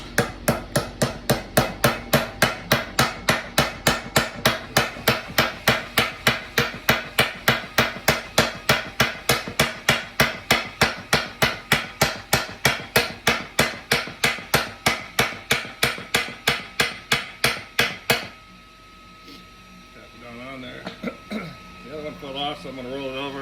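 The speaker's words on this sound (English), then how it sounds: "I'm gonna take my hammer." Hammer striking a driveshaft in a home garage, a long run of evenly spaced metallic blows, loud and close, stopping abruptly near the end before a quieter stretch with faint handling noises.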